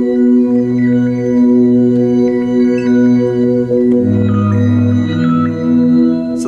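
Sustained synth pad chords from a worship keyboard setup, with a higher sparkling resonant layer drifting on top; a warm low swell shifts chord around the four-second mark, steady and alone without voices.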